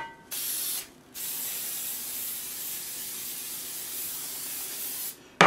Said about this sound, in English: Spray them down real good.